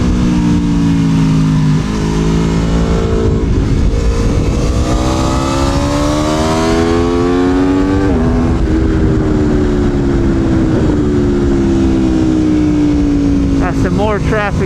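An Aprilia Tuono V4 1100 Factory with an auto blipper, out on a track, howls loud and close, its engine note climbing through gears with quick blipped shifts and crackles near the end.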